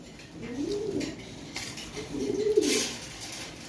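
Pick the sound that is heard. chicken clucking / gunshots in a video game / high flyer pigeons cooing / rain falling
high flyer pigeons cooing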